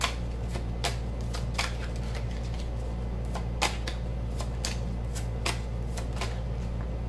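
Tarot cards being shuffled and drawn, with a series of sharp riffling snaps and flicks at irregular intervals over a constant low electrical hum.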